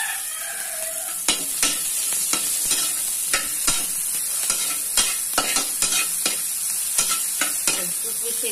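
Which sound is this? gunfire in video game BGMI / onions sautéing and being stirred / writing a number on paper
onions sautéing and being stirred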